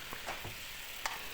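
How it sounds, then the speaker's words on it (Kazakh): Meat frying in bone fat for Uzbek plov, a steady broadband sizzle throughout with a few brief louder spits and pops, close up with no talking. "Енді етімізді салып жақсылап қуырып аламыз"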